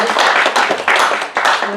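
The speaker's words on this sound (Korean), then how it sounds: "박수 한번 쳐주시죠" A church congregation claps together in a dense, steady burst of applause that swells in waves across the whole moment, with a voice faintly mixed in.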